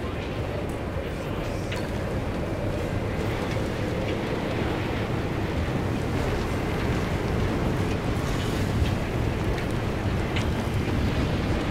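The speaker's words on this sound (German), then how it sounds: "Das ist einfach nur ein Orkan. Ist ein bisschen sehr windig hier draußen." Howling storm wind in the driving game Pacific Drive roars loud and unbroken throughout, a dense, rushing wash of gusting noise with no pauses.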